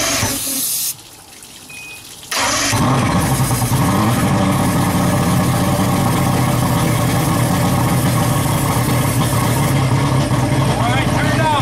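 An outboard boat motor under repair roars to life after a quieter stretch of cranking and then runs loud and steady, a rough droning engine close by for the rest of the clip.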